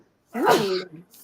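A single short, sharp sneeze from a person, close and fairly loud, rising abruptly and cut off within a second, with a faint trailing sound after it.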